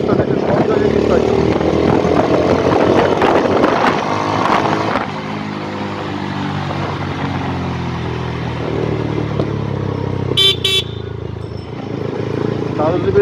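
Taro GP 1v3 motorcycle engine running in road traffic crowded with autos, a steady rumble under a dense wash of surrounding vehicle noise, with someone talking over it.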